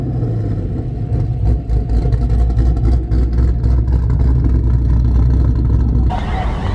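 A VF SS Commodore with a 6.2 litre LS3, big cam and 3-inch stainless near-straight-pipe exhaust idles loud and choppy nearby, its deep uneven rumble pulsing throughout.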